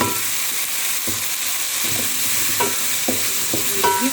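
Potatoes tumble into a pan of oil-fried tomatoes and carrots, with a steady close sizzle broken by several distinct stirring scrapes and clanks.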